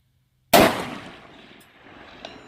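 A single sharp report from a short-barreled 6.5 Grendel rifle cracks out of silence and fades into a decaying echo, followed about a second and a half later by a faint, distant metallic ping of the bullet striking a steel target.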